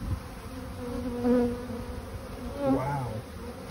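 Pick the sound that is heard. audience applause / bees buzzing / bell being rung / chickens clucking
bees buzzing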